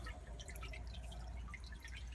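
Water drips in an off-grid aquaponics system, with scattered small drops falling irregularly over a low, steady background hum; fairly faint and close, with no voices.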